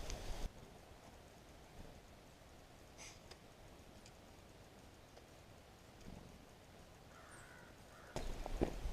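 Crows caw faintly a few times around backyard bird feeders on a winter homestead, sparse calls set against a quiet outdoor hush.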